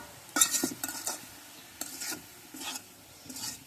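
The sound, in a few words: stirring kolai greens in a pan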